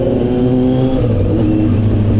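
A Kawasaki ZX-10R sport bike revs loudly as it passes close by, its engine note steady and strong throughout the short burst, with other road traffic in the background.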